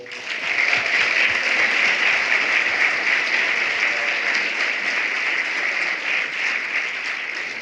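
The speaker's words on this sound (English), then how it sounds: "je pense qu'il mérite un grand applaudissement" A hall audience at the EPFL MT180 2019 final bursts into sustained applause for the organizers and technical crew, a dense, even roar of clapping hands that swells quickly and holds steady for several seconds.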